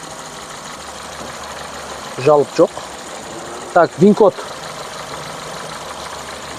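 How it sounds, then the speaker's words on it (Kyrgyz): A Honda Fit's engine idles smoothly with a steady, low, even hum, while someone talks in short bursts over it. "Мотор ровно иштеп турат. Мына мотордун үнүнөн эле байкасак болот."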